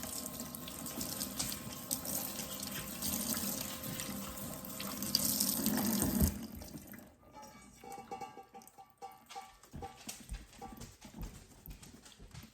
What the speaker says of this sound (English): I'm gonna give these a nice clean rinse to get the rest of that starch off in cold water